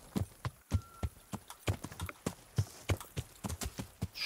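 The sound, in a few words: horse hooves clip-clopping in KCD video game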